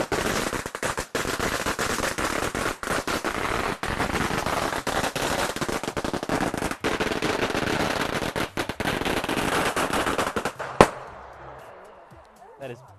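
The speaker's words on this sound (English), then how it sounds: "the firecrackers are hung up on a nearby tree or placed down alongside the grave, and everyone runs away while they explode" A long string of firecrackers bursts at a grave during Qingming, a dense, loud crackling barrage that runs for about ten seconds, ends in one sharp final bang, and then fades to quiet.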